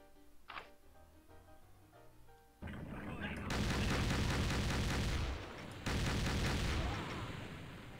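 Cannon fire in the pirate-themed Doom game, heavy booming blasts starting mid-clip and sustaining as a dense, loud roar of repeated shots, with a brief dip before resuming.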